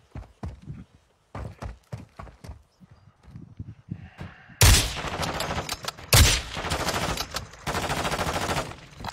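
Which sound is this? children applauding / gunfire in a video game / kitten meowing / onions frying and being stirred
gunfire in a video game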